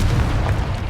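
A Confringo explosive spell blast in Hogwarts Legacy, a loud, deep boom that fills the whole brief moment close up.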